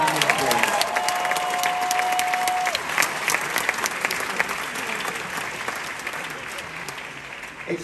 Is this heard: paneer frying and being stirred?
no